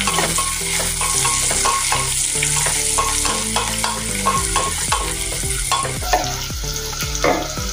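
Peanuts fry and get stirred in a pan for pulao, a loud close sizzle broken by repeated scraping and clattering strokes of a spoon against the pan.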